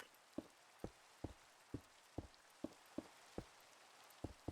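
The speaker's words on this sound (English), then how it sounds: "I need to get rid of this rain." Rain in a building video game falls as a faint, steady hiss, punctuated by about ten soft, evenly spaced drop-like taps close by, with no talk.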